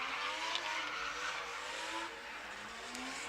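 Race cars drift at an exhibition at Showtime Speedway, heard as a distant, steady engine drone with faint tire squeal and revving, quiet and far off.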